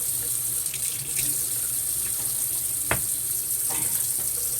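Warm water running from a kitchen tap, a steady hissing stream broken by a few clicks and knocks, close and without talking.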